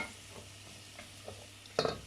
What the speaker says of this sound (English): I'm just going to add in all of these vegetables. And listen to that lovely sizzle.